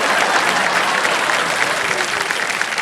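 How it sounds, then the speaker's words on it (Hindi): The studio audience of Kaun Banega Crorepati Season 16 breaks into dense, sustained applause, many hands clapping loudly and evenly throughout with no pause. "सबसे पहले ताली उधर से बजी।"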